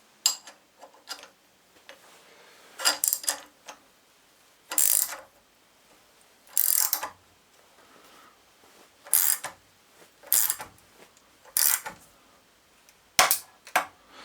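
Ratcheting clicks from tightening the alternator bolts on a Ford Transit, sharp bursts of metallic ticks repeated in short groups with quiet gaps between, close and clear with no talking.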